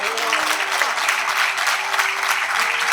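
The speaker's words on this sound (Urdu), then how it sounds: "اب کیا کریں, بے ساختہ تالیاں بجی جاتی ہیں" Audience applause at an Urdu conference session in Karachi on women and Pakistani society, a steady, dense clatter of many clapping hands sustained evenly throughout, loud and close with no talk over it.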